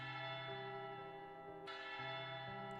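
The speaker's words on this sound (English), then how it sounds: "the bell tolls, the meeting is over" Church bell tolling in the Haze Reverb video game, a faint, sustained ringing tone whose strikes overlap with soft background music, with no talking.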